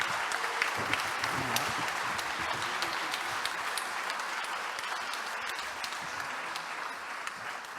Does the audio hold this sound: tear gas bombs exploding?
no